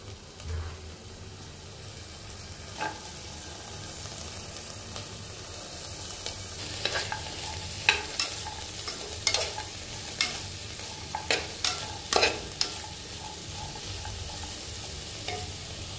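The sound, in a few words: vegetables being stir-fried in a pan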